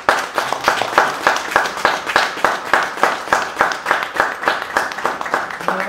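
An audience at a mosaic art exhibition opening applauds for Salvatore, with steady rhythmic clapping in unison, loud and close, keeping an even beat throughout.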